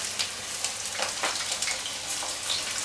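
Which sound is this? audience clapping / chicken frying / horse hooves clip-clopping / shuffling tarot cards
chicken frying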